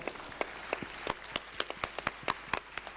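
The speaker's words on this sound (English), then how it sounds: "So a big round of applause for our panelists today." Scattered, uneven clapping from a forum audience applauding a panel of speakers at a youth event, a dozen or so sharp claps spread across a few seconds with no one talking.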